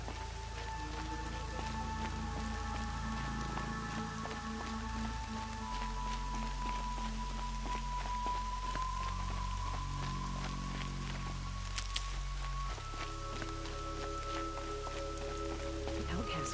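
Steady rain patters on a surface in the video game Horizon Zero Dawn, a constant soft hiss with scattered drops, beneath droning tones and low rumbling in the background.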